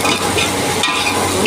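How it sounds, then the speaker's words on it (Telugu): Onions frying in a pan for okra stew (bendakaya pulusu) with tomato, green chillies and curry leaves, giving a steady, close, continuous sizzle with light stirring throughout. "ఉల్లిపాయలు బాగా వేగాలి."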